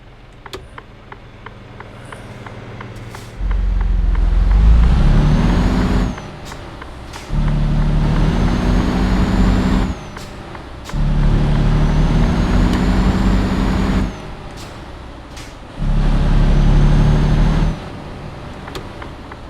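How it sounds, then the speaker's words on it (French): In a video game, a car engine roars in four sustained loud bursts with short quieter gaps between them. It is fairly loud and close over a constant low background hum, with no speech. "il y a une voiture qui arrive là-bas"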